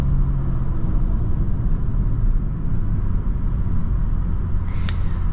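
A tuned 2023 Genesis G70 engine rumbles steadily under acceleration, heard from inside the cabin as a loud, continuous low drone with no voices over it.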